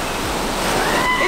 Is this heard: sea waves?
yes